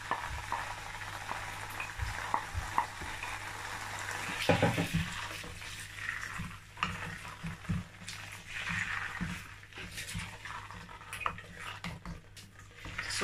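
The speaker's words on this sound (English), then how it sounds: "I'm going to fry this sauce for about 7 to 10 minutes" Tomato sauce for jollof rice fries in a pan over low heat, a steady soft sizzle and bubbling that runs throughout, with occasional scrapes and stirring knocks, close and moderately quiet.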